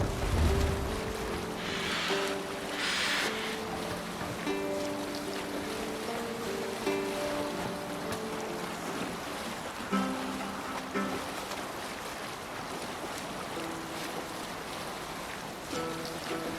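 Viking longship under way on the open sea in Assassin's Creed Valhalla, a steady wash of waves and water against the hull running throughout beneath a sung rowing chant and music.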